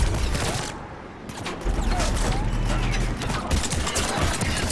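Sustained gunfire and combat noise from the video game Mass Effect 3 form a dense, loud barrage of rapid shots and impacts that persists for the whole stretch.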